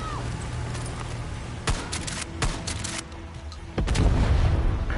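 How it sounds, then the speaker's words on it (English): Gunfire in the video game Far Cry 6: a busy game soundscape with a run of sharp, loud shots and booming bursts, a heavy blast near the end. "I'm shooting, that's who."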